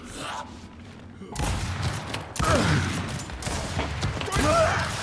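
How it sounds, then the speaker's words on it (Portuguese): Gunfire from the video game Gears 5 crackles in bursts and volleys over a dense, noisy mix of game effects, loud and continuous throughout. "Um tiro Hoffman."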